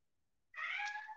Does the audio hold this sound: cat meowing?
yes